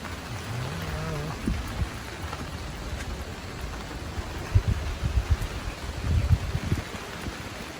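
Steady rain pours down, a dense continuous patter with occasional heavier drops, while a voice speaks faintly in the background.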